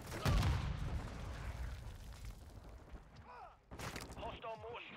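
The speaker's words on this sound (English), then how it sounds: "Hostile mortar strike in the area." Mortar strike explosions in a video game: a loud boom opens, then rumbling blasts and crackling gunfire follow, with a burst of voice and radio chatter layered over the battle.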